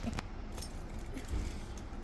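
Keys jangle softly as someone fumbles with the wrong key at a door, a quiet metallic rattle that carries on throughout.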